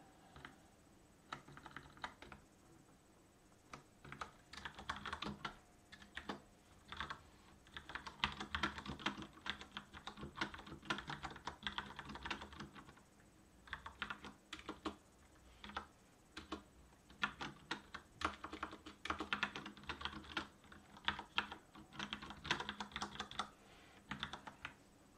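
Steady typing on a computer keyboard while coding, with bursts of quick, close keystrokes and short pauses between them for about twenty-five seconds, with no talking.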